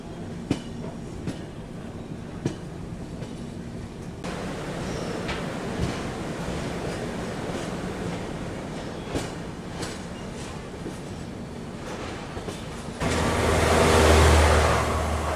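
The GT Express runs parallel to the Lokeshwari train, with a steady rumble of rail wheels and rhythmic clickety-clack, close and loud throughout. It swells into a louder, rushing roar near the end.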